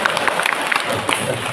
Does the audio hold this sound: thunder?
no